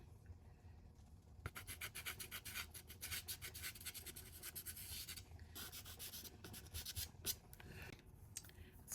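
A brush scrubs watercolor paint onto paper in quiet, close, continuous rubbing strokes with a soft, dry rasp, and nobody speaks.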